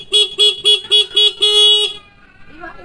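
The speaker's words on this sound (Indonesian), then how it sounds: "ini klaksonnya standar ya" Stock horn of a Honda Beat Street scooter, sounded close and loud in five short beeps and then one longer blast, with a faint murmur afterward.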